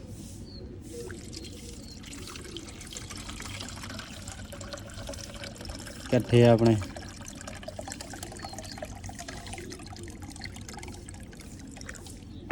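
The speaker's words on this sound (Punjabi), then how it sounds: "ਪਾਣੀ ਪੂਣੀ ਪਾ ਦਈਏ ਇਹਨਾਂ ਨੂੰ ਸਾਰਿਆਂ ਨੂੰ" Water poured out for pigeons in a loft makes a brief, rising gurgle partway through, a short fill of a vessel amid low room noise, with someone speaking quietly nearby.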